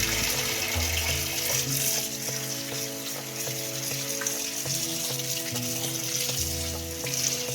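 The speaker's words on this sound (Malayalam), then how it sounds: "ഓക്കെ മാമി, നമ്മൾ ഞാവൽപ്പഴം കഴുകിയെടുക്കുന്നുണ്ട്." Jamun fruit being washed in water, with steady splashing and running water continuing throughout, close and fairly loud, with no voices.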